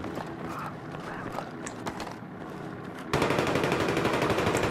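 Bursts of automatic gunfire in the Battlefield 3 multiplayer deathmatch on the Metro map, rapid rattling shots that jump sharply louder partway through and continue as dense, sustained fire.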